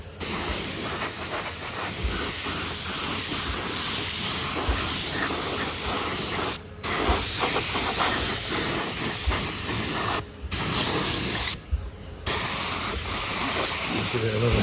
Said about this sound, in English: A bit of grey paint finally going on the gearbox.